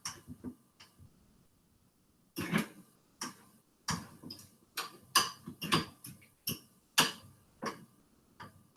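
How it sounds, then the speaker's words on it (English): A fork mashes bananas for a banana loaf, making soft, irregular clicks and squishy taps as it strikes the bowl. The sounds are close and quiet, with short pauses between the strokes. "Just mash in the fork into the bananas"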